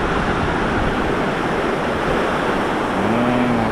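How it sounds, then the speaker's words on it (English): Loud, steady rushing of river water pouring near a waterfall in Dalat, a dense unbroken roar with no speech. "standing by this waterfall, once again you just start feeling the power of water"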